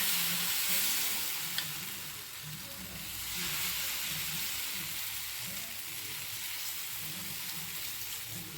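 Rava dosa batter sizzles steadily on a very hot griddle over a high flame, a continuous close frying hiss that runs throughout with no voices.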